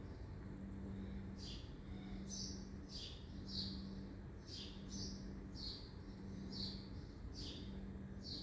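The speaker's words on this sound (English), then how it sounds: "I love the sound of the birds." Short bright bird chirps repeat in quick pairs over a steady low hum, faint and somewhat distant.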